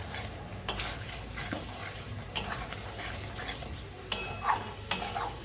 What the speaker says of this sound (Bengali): আলুটা ছেড়ে দিয়ে একটু ভালো করে আলুটা মিশিয়ে নেব।